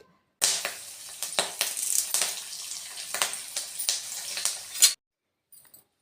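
Curry leaves frying in hot oil for lemon rice, a loud continuous crackling sizzle with sharp popping bursts lasting several seconds before stopping abruptly, no talking over it.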